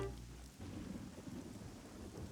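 Steady rain falls with a low rumble of thunder, a constant soft hiss over deep rolling noise in a cartoon storm scene, with no voices.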